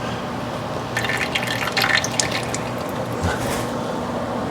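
Transmission fluid drains and drips from the pan of a Ford AOD automatic transmission, a steady pattering trickle splashing into a catch container, fairly close and continuous.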